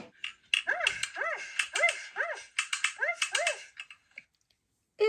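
Cartoon dog barks in a quick series of about ten yaps grouped in bursts, loud and close, against a light clicking like keyboard typing, with the barking falling silent near the end before one last short yelp.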